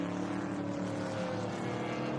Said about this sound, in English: I love the Corvettes as he comes around.